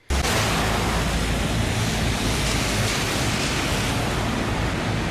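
Loud, steady rush of water gushing from a burst drinking-water main, a dense broadband roar that holds constant throughout without pause.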